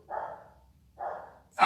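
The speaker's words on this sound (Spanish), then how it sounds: "Mi perrito está ladrando." A small pet dog barks twice in short, separate yaps, close by, followed by the start of a third bark cut off at the end.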